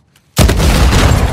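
An explosive barrel in Uncharted 4 goes off after near silence: one sudden, very loud close blast that rolls straight into a thick roaring rumble and holds at full strength to the end, with no voices.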